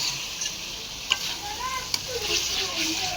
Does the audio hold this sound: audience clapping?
no